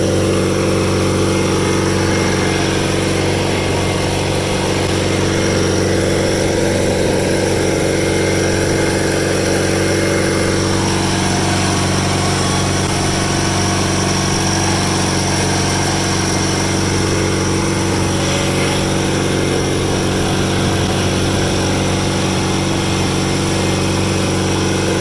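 A rare factory-built Cub Cadet garden tractor engine runs continuously for the whole stretch, a loud steady small-engine drone held close by with no speech.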